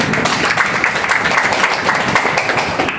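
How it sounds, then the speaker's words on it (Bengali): An audience at a talk on stem cell nutrition therapy claps loudly together, a dense, continuous burst of applause close by for a few seconds. "জোরে একটা হাততালি"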